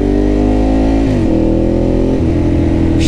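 A motorcycle engine revving loudly up close, holding a steady high idle and then stepping down in pitch twice, alone with no voices.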